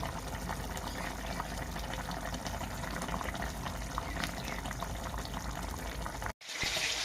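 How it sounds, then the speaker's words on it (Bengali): Raw mustard oil is poured into a cooking dish with salt and split green chillies, giving a continuous close liquid rush and gurgle that ends abruptly. "আর একটু সরষের তেল, কাঁচা সরষের তেল দিয়ে দিচ্ছি"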